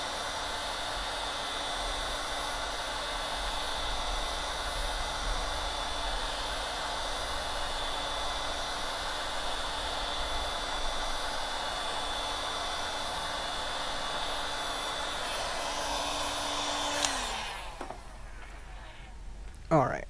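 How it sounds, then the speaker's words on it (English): Hot air rework gun blowing steadily on a Samsung tablet circuit board, a continuous broadband hiss with a low tonal hum that cuts off near the end, followed by brief handling sounds. "go at it with your standard hot air gun, with the hot air machine"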